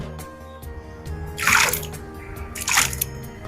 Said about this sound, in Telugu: ఇట్లా కూల్ వాటర్లో ఒకసారి కడగాలి ఆలుగడ్డని.